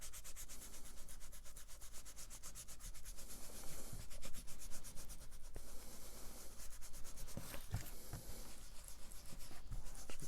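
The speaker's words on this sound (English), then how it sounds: "Rub it into all of those bits where you've split the fibres." Ink rubbed by hand into split paper fibres on an embossed pocket project, a steady close scrubbing with rhythmic strokes that continue without pause and carry no speech.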